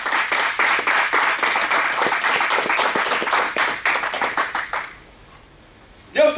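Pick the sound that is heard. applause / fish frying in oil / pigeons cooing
applause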